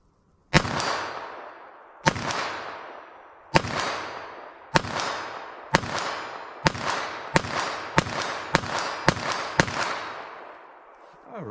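Federal Punch .22 LR rounds fired fairly quickly at a target 40 yards away, about a dozen sharp cracks, each with a ringing decay, the spacing tightening toward the end.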